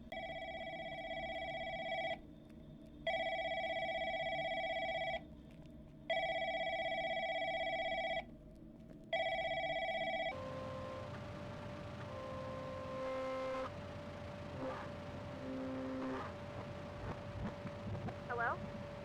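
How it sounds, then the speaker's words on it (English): A telephone rings in loud repeated electronic bursts with short pauses between them, followed by a quieter stretch with fainter tones and background noise. "The first event that takes place is the phone ringing."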